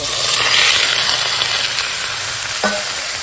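Marinated goat meat hitting hot fried onions and green chillies in a pan, a loud, dense sizzle up close that rushes in and holds steady, with a brief scrape of stirring near the end.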